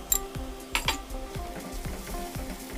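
Spices sizzle and fry in a pan for fresh fenugreek chicken curry, with a spoon scraping and clinking against the metal in a steady stirring rhythm, close and fairly loud, no talking.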